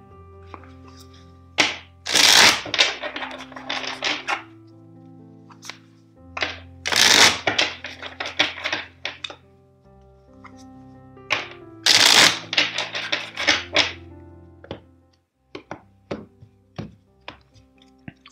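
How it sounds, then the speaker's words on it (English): A deck of cards is riffle-shuffled three times, each a quick crisp burst of flicking, followed by soft tapping and squaring of the deck. "let's shuffle the deck four times"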